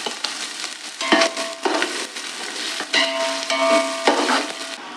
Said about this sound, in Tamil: வெங்காயம் பச்சை மிளகாய் கட் பண்ணி போட்டுக்கலாம்.